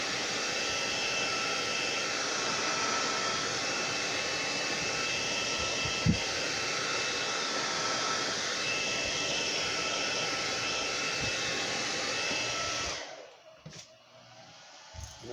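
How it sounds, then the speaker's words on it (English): A blow dryer, used to dry paint on a crankbait lure, runs with a constant whirring roar for about thirteen seconds, then switches off, leaving near quiet. "Now you're going to take your little blow dryer."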